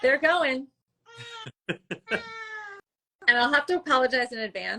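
A house cat meows in the middle of the clip, giving a few short and one longer meow between stretches of a person talking.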